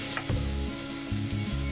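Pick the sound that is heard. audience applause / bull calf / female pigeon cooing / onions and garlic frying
onions and garlic frying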